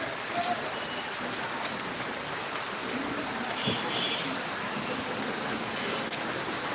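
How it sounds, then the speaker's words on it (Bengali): Steady rain falling outdoors on a street, a constant soft hiss of drops with a faint background voice. "কখন যে বৃষ্টি থামবো কোনো নিশ্চয়তাই নেই"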